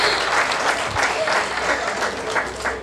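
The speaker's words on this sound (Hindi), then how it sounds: "जो आप सबने ये घनघोर तालियां बजाई हैं ना" Thunderous applause fills a Hindi comedy poetry show (hasya kavi sammelan), a steady dense wash of many hands clapping throughout with a faint voice or two underneath.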